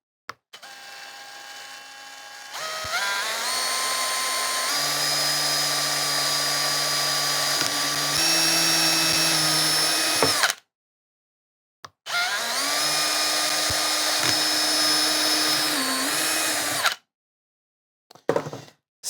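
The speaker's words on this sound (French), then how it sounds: "je sais que je dois percer ici" A power drill boring a hole while modifying a multitool into a concrete vibrator, heard as a loud steady high-pitched motor whine that runs for several seconds, cuts off, then starts again for a second long burst, close by.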